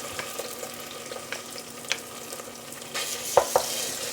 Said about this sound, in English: take this tomato paste and just fry it in the oil a little